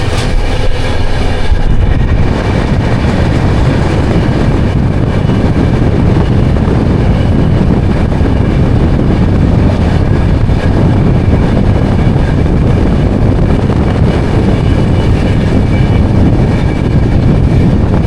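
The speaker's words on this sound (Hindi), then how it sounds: "दिल्ली के अंदर जब ट्रेन धीरे धीरे चलती है" Steady, loud rumble inside a passenger coach as the train rolls slowly through Delhi, continuous wheel and track noise with no voices.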